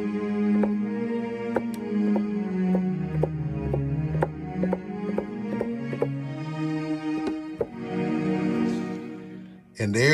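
Roland FA-06 keyboard played through an MPC Live 2, producing a run of sustained, layered synth notes with sharp note attacks and a steady tone, loud and clear with no talking.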